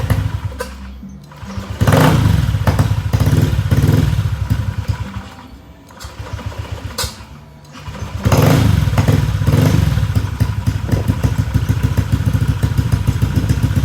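A motorcycle with a tuned API fuel box cranks and catches, then its engine runs loud and close with a rough, uneven idle that dips briefly before it picks up again.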